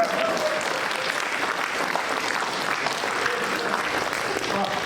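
Steady, dense audience applause fills the hall at a Hindi hasya kavi sammelan comedy poetry event, a continuous loud wash of clapping that holds evenly from start to finish.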